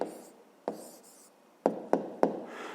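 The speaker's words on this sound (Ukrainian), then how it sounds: "Пишемо відповідь." A pen writing an answer by hand on paper: soft scratchy strokes broken by several sharp taps as the pen touches down, close and quiet.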